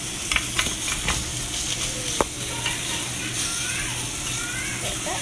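Ahi tuna steaks sear on a hot grill with a steady sizzle, broken by a few sharp clinks and scrapes as they are flipped over; background noise runs throughout.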